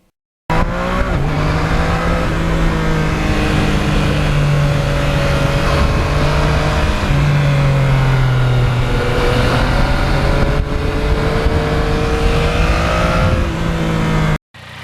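A 2020 Yamaha MT-09 motorcycle engine running loud and close, a steady drone whose pitch rises and falls gently as it rides, with no talking over it.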